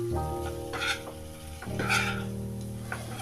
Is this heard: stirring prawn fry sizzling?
yes